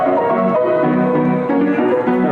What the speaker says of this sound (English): they've also got this very cool player piano down there